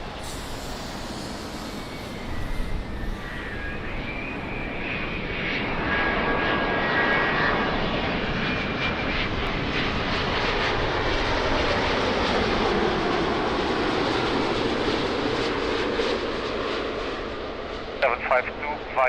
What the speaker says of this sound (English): So let's try to see the 330 on final.